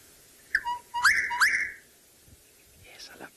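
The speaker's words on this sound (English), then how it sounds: "That is the call of the gorgeous bushrike," A gorgeous bushrike gives a clear whistled call: a couple of short notes followed by a longer sustained whistle, with fainter answering notes at the end against a quiet background.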